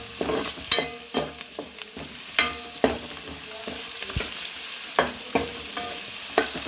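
Onions frying in a pan for a beef coconut dish, a soft continuous sizzle punctuated by repeated spatula scrapes and taps every second or so, close and unaccompanied by speech.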